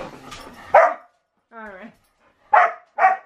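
A puppy lets out a few short barks and a whining yelp, close by, with a person talking at the start.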